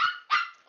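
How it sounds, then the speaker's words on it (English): A puppy gives two short, high yipping barks in quick succession, fairly close and alone with no talk over it. "Sounds like a puppy."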